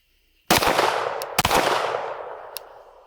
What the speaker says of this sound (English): I'm gonna shoot my pistol.